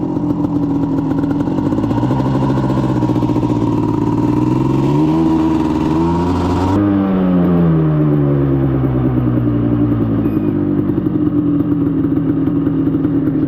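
A 1988 Suzuki LT250R ATV engine runs while being ridden, with a loud buzzing single-cylinder drone that rises and falls in pitch as the throttle changes and the clutch slips, plus constant rattle and clatter, close and continuous with no talk.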